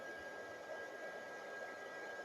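Low, steady whir of a fan motor driven by a VFD inverter drive, a constant even hum without breaks, faint and alone.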